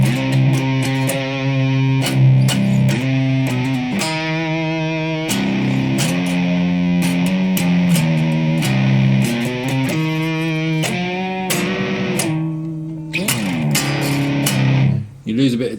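An Ibanez RG7321 seven-string electric guitar played through distortion with the pickup selector in the second position: crunchy, gritty chords and riffs in choppy rhythmic bursts, loud and close, then cutting off at the end.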